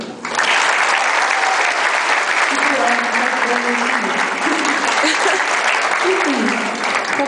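A concert audience at a show breaks into loud, sustained applause for the producer, a thick wash of clapping that swells in quickly and holds steady, with a voice and faint tones showing through underneath.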